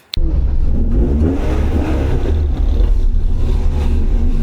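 A loud car exhaust roars steadily as the vehicle accelerates on a lap of the Nürburgring, a deep rumbling drone heard close up after a brief click at the start.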